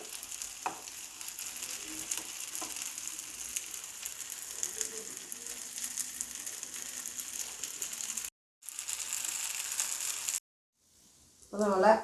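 Stuffed ripe banana frying in a little coconut oil in a home kitchen: a steady, close, hissing sizzle runs on at a constant level, briefly cutting out twice near the end before a louder clatter.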